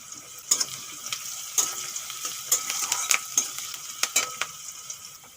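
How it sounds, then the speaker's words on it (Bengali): Sliced onions with a few curry leaves fry in a home kitchen pan for a kolai dal bora recipe, giving a steady crackling sizzle broken by sharp clicks and scrapes of stirring throughout, with no talking. "পেঁয়াজগুলো ভালো করে ভেজে নিয়েছি"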